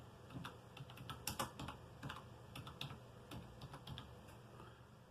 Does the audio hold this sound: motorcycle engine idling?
no